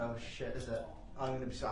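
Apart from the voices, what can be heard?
No everyday noises stand out.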